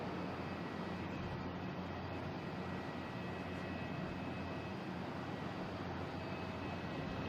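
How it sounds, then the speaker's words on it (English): A Delta Embraer E175 airliner takes off at Boston Logan, a distant, steady broadband jet roar that stays even throughout with no voices over it. "And we have Delta taking off, heading to Indianapolis, E175"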